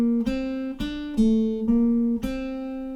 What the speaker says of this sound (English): the guitar part sounds like this